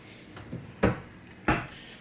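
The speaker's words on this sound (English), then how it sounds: "Is this how you open this drawer?" Two sharp knocks a moment apart, like a cabinet drawer or door being opened and bumped, close and fairly loud.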